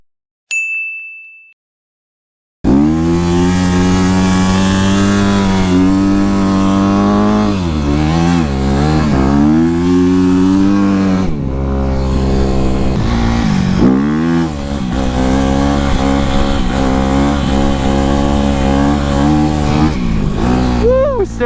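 A Honda CRF250R dirt bike on studded tires rides across a frozen lake in Ontario, Canada; after a short ding and a pause, the four-stroke engine drones loudly and steadily, rising and falling as the rider shifts and revs.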